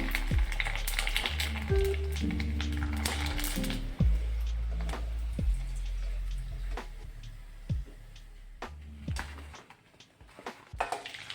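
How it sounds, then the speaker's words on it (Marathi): Sago and potato fasting papad frying in hot oil, bubbling and crackling at close range with repeated sharp taps and scrapes from a utensil over a low hum. "आपण तळून पाहूयात आता।"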